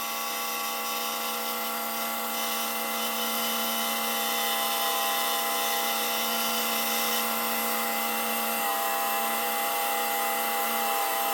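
A bench polishing wheel buffs the blade of a Victorinox knife, a steady loud whining drone with constant tonal hum running throughout, no voices.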